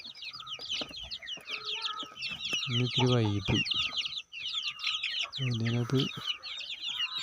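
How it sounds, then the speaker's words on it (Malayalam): Native crested hens clucking busily at feeding time, with chirps and rapid cackles layered over one another close by, while someone speaks in between. "തലയിൽ തൊപ്പിയുള്ള കോഴിയുണ്ട്"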